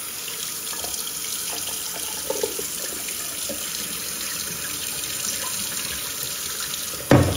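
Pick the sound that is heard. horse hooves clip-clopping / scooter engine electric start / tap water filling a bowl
tap water filling a bowl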